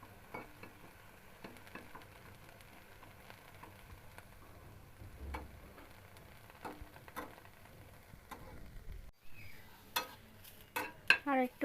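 Neem leaves dry-roasting in a bare pan for a Bengali dish give off a faint, steady crackle, broken by scattered scrapes and clicks of stirring that grow louder and more frequent near the end.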